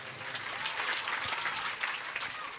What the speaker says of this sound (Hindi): ताली थोड़ी बजाई थे, जोरदार ताली होनी चाहिए।